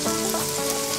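Chopped onions hit two tablespoons of hot oil in a pan while aloo methi is being made, setting off a loud, steady, dense sizzle that crackles without pause, close up and with no voice over it.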